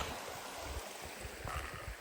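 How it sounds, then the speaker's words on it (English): Lick Creek rushing past the spot where its bridge has washed out, a steady close broadband water wash filling the clip with no talking. "I am at Lick Creek and the bridge has been washed out."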